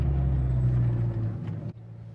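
A tuned Abarth car's engine idles with a steady low rumble while stopped at a downtown crosswalk, then the tone drops abruptly near the end.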